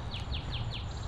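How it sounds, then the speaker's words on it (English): Songbirds chirp outdoors on a rainy mid-April day, a quick series of four evenly spaced high, sweeping notes over steady low background noise. "plenty of birds are chirping."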